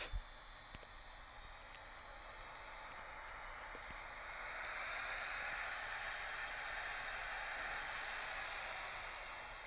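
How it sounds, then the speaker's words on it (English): Jet engine blast from an airliner in the Infinite Flight game swells into a broad, steady roar that grows louder midway and then holds, with no talking over it. "And took some engine blast. Jet blast."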